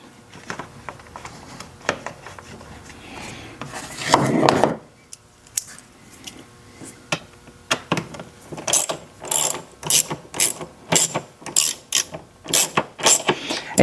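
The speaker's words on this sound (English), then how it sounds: "you want to make sure that you put the screws in evenly so that it doesn't pinch or get bound up" Screws are ratcheted back into the air filter housing of a Ford Fiesta, with a run of sharp, evenly spaced ratchet clicks up close, preceded by some handling and rattling of the plastic housing.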